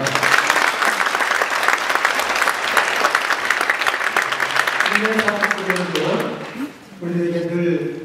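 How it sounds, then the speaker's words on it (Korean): A church congregation claps together in a loud, steady burst of applause that fades toward the end, when a voice speaks over the room. "하나님께 영광의 박수 올려드리겠습니다."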